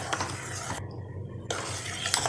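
Boiling milk with cardamom powder and sugar is stirred in a pot, giving soft close scraping and faint clinks of a spoon against the metal, with a brief quiet gap partway through and no talking.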